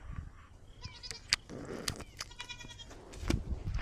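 Goats on a homestead bleat several times at moderate distance, a few short cries scattered over steady outdoor rustle and background noise.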